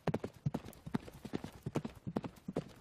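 Rapid rhythmic clip-clop of horse hooves galloping in a horse race, steady beats continuing throughout at a quick pace, fairly close and moderately loud.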